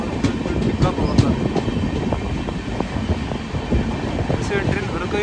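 Gomateshwara Express passenger train runs along the rails, a steady rumbling roll with rhythmic clickety-clack of wheels over track joints, moderately loud and continuous from inside or beside the carriages.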